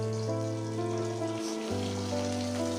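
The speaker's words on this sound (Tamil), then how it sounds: "ஒரு 10லேருந்து 15 சின்ன வெங்காயம் சேர்த்துக்கலாம். சேர்த்து நல்லா வதக்கிக்கலாம்." Small shallots and curry leaves sauté in hot oil in a pan, giving a steady soft sizzle and crackle under a continuous tonal hum that shifts pitch partway through.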